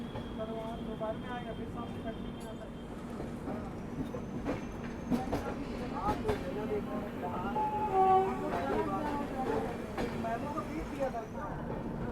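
Garib Rath Express rolls near Kanpur Central station in the evening, a steady rumble with rhythmic clickety-clack of wheels over rail joints, while someone talks throughout.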